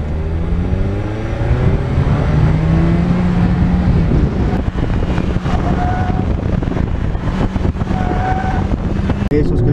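A Mazda MX-5 RF is driven hard through a slalom with stability control intervening, giving a loud continuous engine drone with shifting pitch, wind rush and whining tonal sounds from the car, close and steady throughout.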